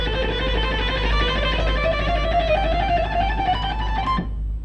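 A guitar on a rock music program is played fast along a single string, giving a dense, continuous run of notes with a slowly rising line that stops abruptly near the end, with no talking.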